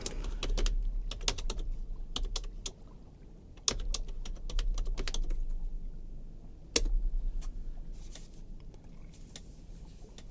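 Close, fast typing on a computer keyboard, with clusters of crisp key clicks and short pauses between bursts over a steady low hum, no voices.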